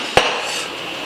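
A small hammer gives a single sharp metallic tap, seating a spacer into the frame of a Shovelhead bobber motorcycle during a rebuild, heard once over a steady background hiss.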